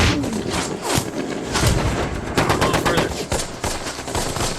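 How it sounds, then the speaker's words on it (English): Dense machine gun fire from the war drama Band of Brothers, rapid overlapping bursts and shots rattling continuously, loud and close, with battle noise underneath. "Go get that machine gun on the right flank"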